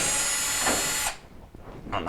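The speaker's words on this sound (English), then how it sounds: "We're just going to remove the 4 5/16 screws" Power driver removing screws from a Maytag dryer front housing, a loud close whirring burst for about a second that cuts off, followed by a brief short rev.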